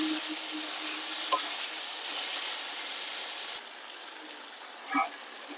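Chicken chaap frying in a pan, with a constant bright hiss of sizzling oil, a couple of brief stirring knocks and scrapes of a utensil, close and steady.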